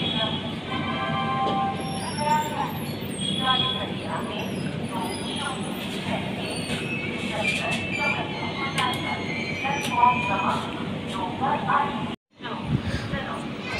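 The 12061 Janshatabdi Express train rumbles steadily as it pulls into Hoshangabad railway station, with continuous wheel and carriage noise, faint squeals, and voices in the background.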